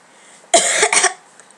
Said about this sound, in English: oh god, should I just cough on camera?